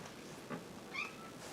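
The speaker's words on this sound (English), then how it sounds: "Listen to the cat yell." A cat lets out two short, strained yowls, the second louder and higher, fairly faint against a quiet room during an Amiga 2000 computer case and CPU upgrade.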